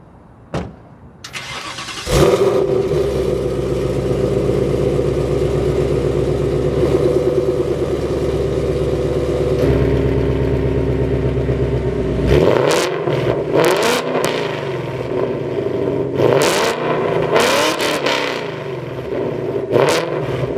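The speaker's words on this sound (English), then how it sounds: "this is like the best sounding Mustang I've ever heard" A Ford Mustang GT with an aftermarket exhaust cranks and fires, then holds a loud, steady rumble for about ten seconds before a series of sharp, close revs and throttle blips.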